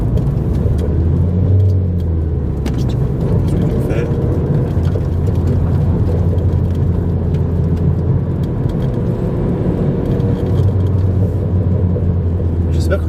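A Renault Clio 4 RS Stage 1 drives with a steady engine rumble and road roar heard from inside, tyres crackling over the ground, while someone talks over it.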